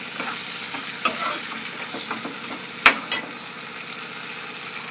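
Chopped tomatoes go into onions already frying in a pan for a brinjal and egg curry, giving a steady, close sizzle with two brief clinks of the spoon against the pan.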